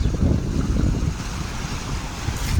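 Floodwater of the swollen Sina river rushes past under full pressure near Nandur, making a loud continuous low roar with some wind noise on the microphone.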